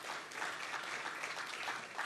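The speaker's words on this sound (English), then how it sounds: "we can give ourselves a round of applause for that" Audience at a journalists' anniversary symposium and lecture applauding, a steady dense wash of clapping with no clear pauses over about two seconds.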